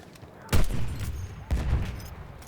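Gunfire in the video game Battlefield 1, two sharp loud shots about a second apart, each followed by a rumbling tail, over quiet game background.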